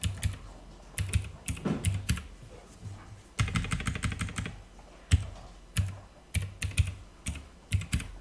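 Typing on a computer keyboard: bursts of quick, crisp key clicks with short pauses between, close and quiet, ending on firmer single presses.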